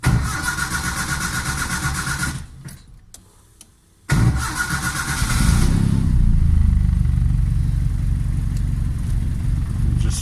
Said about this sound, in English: We just start the vehicle.